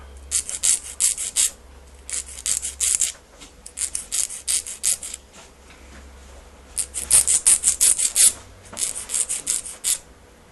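Short bursts of close, scratchy rubbing as a nail file works down the raised bump on a false nail tip, in two clusters of quick strokes separated by a quiet pause, with no voices.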